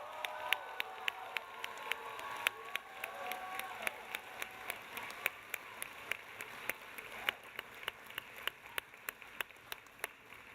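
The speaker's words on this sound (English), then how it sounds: "I just want a huge welcome and applause for Mark." Sparse, faint applause at a commencement ceremony: a scattering of sharp individual claps repeats at a fairly steady pace over soft room noise, sounding distant and thin rather than like a full ovation.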